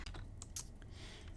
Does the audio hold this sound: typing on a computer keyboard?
yes